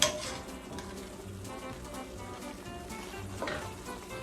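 Bolognese sauce heating in a hot pan, a steady soft sizzle and bubbling with occasional stirring scrapes, close up and fairly quiet, no talking.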